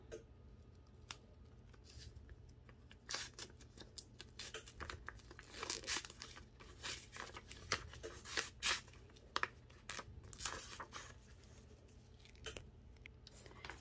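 Pattern heat transfer vinyl being weeded and peeled: close, quiet, irregular crinkly tearing and snipping sounds in bursts, with no talking.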